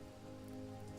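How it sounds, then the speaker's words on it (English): Steady rain patters down in the video game Hytale, a soft continuous hiss of falling drops heard alone at low volume over a faint tonal background. "oh, it's raining."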